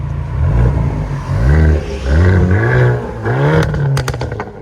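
A Hyundai Kona N with an aftermarket exhaust revs in rising, falling sweeps close to the microphone, and a burst of sharp crackles and pops breaks out near the end.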